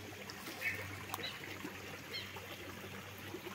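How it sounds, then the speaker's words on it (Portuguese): A small creek runs along the edge of a rural property in Brazil, flowing toward the Capivari River, heard as a faint, steady trickle and babble of water with some quiet background noise. "No final da chácara se encontra aqui um riozinho, um córrego para o rio Capivari."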